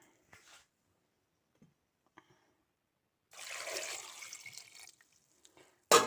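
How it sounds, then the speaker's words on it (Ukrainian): Water pours steadily onto walnuts for about two seconds after a few small clinks and taps, then a sharp knock at the end. "І ми їх заляємо зараз водою."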